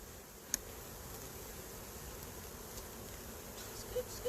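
A steady, dense buzz of bees fills the air without pause, with a couple of brief sharp clicks standing out.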